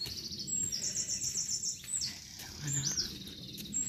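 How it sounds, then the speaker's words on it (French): Small birds chirp and tweet in repeated high bursts along the Camino Francés in Spain, fairly faint against steady outdoor ambience, with a person speaking briefly. "On entend les petits oiseaux."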